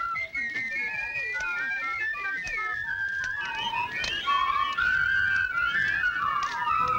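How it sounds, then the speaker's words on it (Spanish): A person whistles a long, wavering melodic tune on request during a harvest hiring, the clear tonal line running steadily and fairly loud with no talk over it. "¿Sabes silbar? Sí. A ver, silba."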